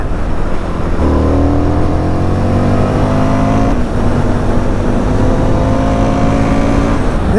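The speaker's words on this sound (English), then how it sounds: "Getting a little bit of like a kind of decel like backfire." A 2020 Indian FTR 1200 S Race Replica motorcycle engine drones loud and close while riding, with rising revs that rise, drop off and climb again; any deceleration backfire pops are lost in the steady engine noise.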